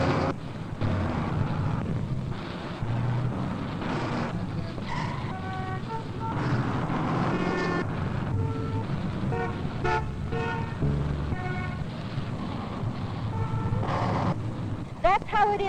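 New York street-corner traffic rumbles steadily with car horns tooting repeatedly, sharp honks cutting through the dense city din and some wind buffeting.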